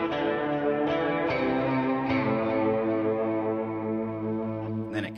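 Electric guitar playing an octave lick through a Line 6 Helix-style modeler, sustained doubled notes with echo and reverb trails, steady and loud with several picked attacks, no voices.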